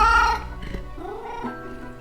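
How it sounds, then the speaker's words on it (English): A cat meows in the video game Death & Taxes: a loud, close, tonal meow followed by a softer, drawn-out second call, with no speech over it. "Meow, meow, the cat notes melodiously."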